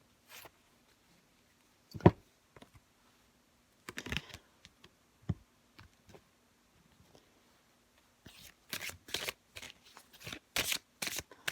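Tarot cards riffled and dealt in short bursts: one sharp slap near the start, scattered small flicks, then a fast run of crisp shuffling strokes toward the end, close and dry with no talk.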